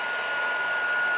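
A craft heat tool blows steadily, a continuous close whooshing roar with no breaks, used to heat set ink and embossing powder on holiday cards.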